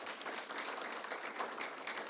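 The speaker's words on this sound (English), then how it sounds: "Please give them a round of applause." Luncheon audience applauding the panelists after an affordable and workforce housing discussion, a soft, steady wash of many hands clapping, fairly distant and even for a couple of seconds, no talk.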